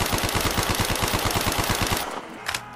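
Rapid automatic gunfire in a Call of Duty Zombies map recreated in Minecraft: a loud, fast, evenly spaced burst of shots for about two seconds, then stopping abruptly, followed by a faint click.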